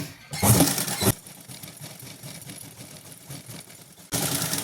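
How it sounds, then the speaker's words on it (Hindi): A sewing machine stitches a pair of pants in two loud mechanical bursts, one near the start and another at the end, with a quieter stretch of low rattling in between. "अब एक सिलाई हम ऊपर लगाएंगे पॉइंट की, एक यहाँ लगा दी तो एक ऊपर लगा दी।"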